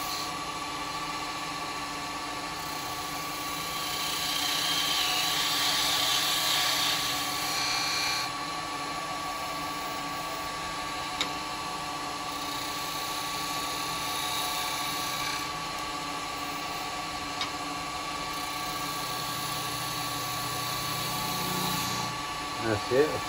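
A lathe turns a sycamore vase against a spindle gouge, giving a steady whining, humming drone with a brief rise in cutting noise partway through, and a person talks over it.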